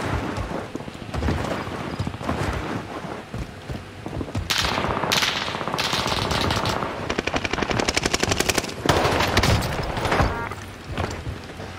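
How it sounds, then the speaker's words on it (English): Enemy gunfire in a Fortune's Keep solos video game match, a dense, loud stream of rapid automatic shots with a rattling, crackling texture that continues almost nonstop for about twelve seconds. "he's still shooting at me"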